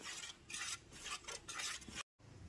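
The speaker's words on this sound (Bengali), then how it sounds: "নলেন গুড়টা দেওয়ার পরও খুব ভালো মতো মিশিয়ে নিলাম।" Spoon stirring batter in a bowl after nolen gur (date palm jaggery) is added, steady scraping swishes in a few long strokes with a brief gap near the end, close-up and soft.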